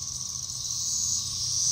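Cicadas drone in a garden, a continuous high, even buzz that holds steady and swells slightly toward the end, with no talking.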